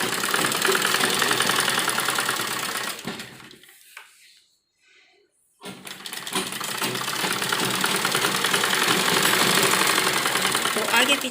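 An electric sewing machine stitches a frock in two loud, steady runs of rapid mechanical whirring, separated by a short near-silent pause in the middle.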